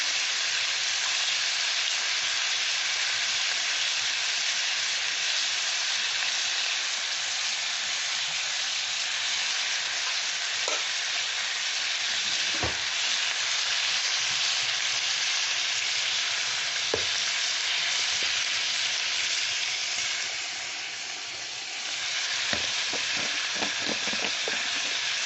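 Ivy gourd frying in a pan with salt and turmeric gives a steady, loud sizzling hiss throughout, broken by occasional sharp scraping clicks as it is stirred, with no talking.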